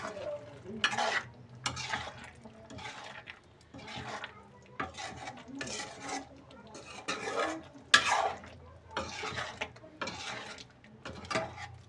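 A spoon or spatula stirs kaju paneer kadai gravy as it simmers in a pan, making repeated scraping and clattering strokes in an uneven rhythm over a low sizzle, close up and without speech.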